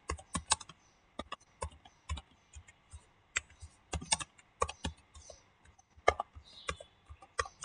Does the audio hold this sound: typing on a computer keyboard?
yes